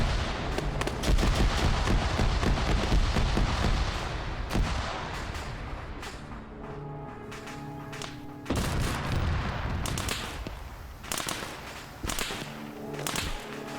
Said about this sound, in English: Use the machine gun! Machine gun!